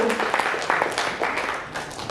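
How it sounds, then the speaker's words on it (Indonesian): An audience at a preachers' working meeting in West Kalimantan breaks into steady applause, many hands clapping densely and fairly close, with faint voices mixed in. "Ya, tepuk tangan ini kan?"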